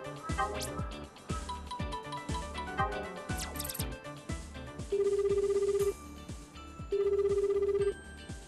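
In the video game Gal*Gun 2, a telephone rings in two long steady electronic bursts separated by a pause, following a stretch of busy game music and sound effects.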